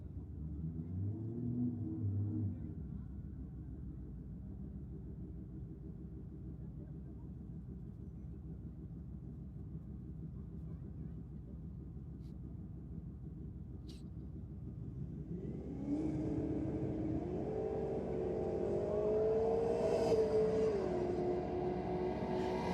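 Ford Falcon drag racing car at a drag strip, its engine rumbling steadily at a distance before rising into a louder, climbing rev as it accelerates, with crowd and announcer noise around it.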